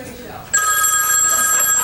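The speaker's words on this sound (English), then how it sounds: "There were phones ringing." A telephone bell starts ringing partway through and keeps up a steady, bright, continuous trill, with voices in the room before and around it.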